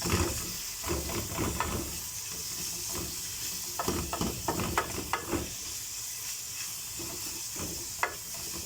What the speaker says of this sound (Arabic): هقلب بقى البصل كده مع اللحمه لحد ما يدبل خالص معايا